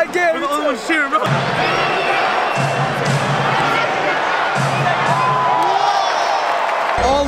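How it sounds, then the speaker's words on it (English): A basketball arena crowd at a Brooklyn Nets versus Cleveland Cavaliers game roars and cheers loudly and continuously, with nearby voices shouting over the din and a few brief thumps. "Brooklyn lost the lead and the entire crowd cheered."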